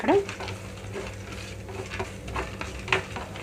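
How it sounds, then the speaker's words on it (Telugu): Fenugreek seeds, cumin and chana dal roasting golden in a pan for a cabbage tomato chutney, with a soft, faint sizzle, stirring scrapes and an occasional light clink of the pan. "మెంతులు, జీలకర్ర మొత్తం కూడా ఇందులో వేసి దోరగా వేయించుకుంటున్నాను"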